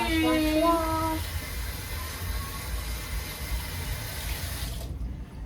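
Running kitchen tap water splashes steadily while hands are washed at the sink, a continuous close rushing hiss with a brief higher tone at the start, cutting off abruptly near the end.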